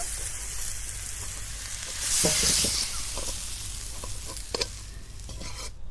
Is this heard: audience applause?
no